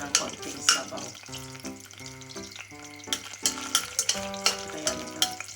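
Beef is sautéed in a pot for Filipino nilagang baka, with soft sizzling under clinks and scrapes of a utensil stirring against the pot, while music plays along with it.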